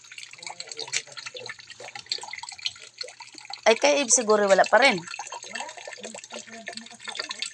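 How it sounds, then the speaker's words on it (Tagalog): Water from a tap drips and trickles into a container at night during water collecting, a faint steady patter running throughout while people talk close by. "dito pa lang sa amin may tulo"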